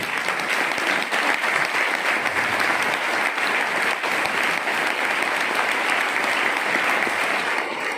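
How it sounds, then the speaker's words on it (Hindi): Sustained applause from an audience at an RCM business celebration in Varanasi, a dense, even roar of clapping lasting several seconds with no one talking over it. "एक बार ताली बजा दीजिए उनके।"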